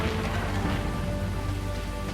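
Heavy rain in the video game Onimusha 2: Samurai's Destiny, a dense, steady hiss of downpour filling the whole stretch at even loudness with no voices.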